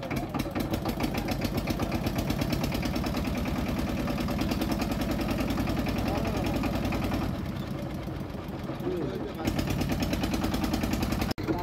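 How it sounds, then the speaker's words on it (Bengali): A trawler boat's diesel engine runs loud and close with a rapid, steady chugging throb that holds throughout, briefly easing before surging again, with voices faintly mixed in. "তো ভাই স্টার্ট দিতেছে ট্রলার"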